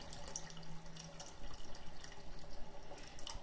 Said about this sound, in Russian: Наш бульон мы дополняем водой.